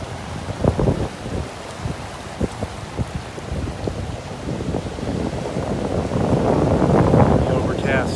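A 10 to 15 knot wind blows off the Gulf across an overcast North Naples beach, buffeting the microphone in uneven gusts over a rumble of surf that grows louder and steadier toward the end.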